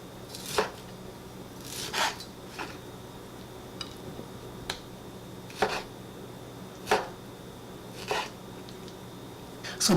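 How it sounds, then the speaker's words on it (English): A sharp knife slicing through sushi-grade ahi tuna for poke: about eight crisp, separate cutting strokes spaced a second or two apart, close and fairly quiet over a low room hum. "make sure that your knife is really sharp when you slice your tuna"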